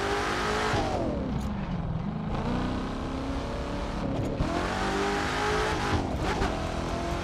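Game car engine revving hard in The Crew 2, played with a Fanatec CSL Elite steering wheel, with a gear shift and rising and falling revs, loud and continuous for the whole stretch.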